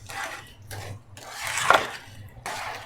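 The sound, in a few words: stirring melting mixture in a pot for poppycock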